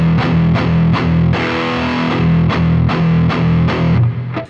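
Distorted electric guitar through a Friedman BE-OD model on a Boss GT-1000 with the tight control at minimum, heavy chugging chords with loose low-end rumble, loud and close, played alone.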